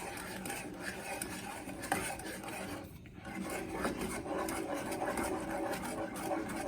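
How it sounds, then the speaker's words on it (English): Butter toffee mixture of regular butter being stirred continuously in a pot, a faint steady scraping and rasping that goes on without pause, quiet and close. "So it's a continual stir at this point"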